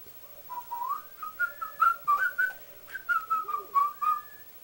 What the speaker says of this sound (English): How about whistle? I can whistle.